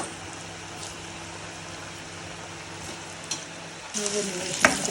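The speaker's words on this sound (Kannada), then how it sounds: "ಒಂದು 2 ನಿಮಿಷ ಫ್ರೈ ಆದರೆ ಸಾಕು, ಯಾಕಂದರೆ ನಾವು ಮುಂಚೆನೇ ಬೇಯಿಸಿರ್ತೀವಲ್ಲ ಅದಕ್ಕೋಸ್ಕರ" Homemade French fries, already parboiled, frying in hot oil for a couple of minutes: a steady soft sizzle throughout, swelling into louder bubbling crackle near the end as more potatoes go in.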